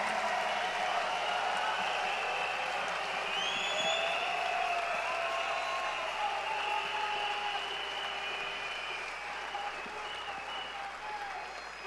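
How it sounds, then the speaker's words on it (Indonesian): Large audience applause at a business convention in Jakarta, steady and loud throughout with faint tonal sounds mixed in, easing slightly toward the end. "please give him a round of applause for Sati Senati Raja."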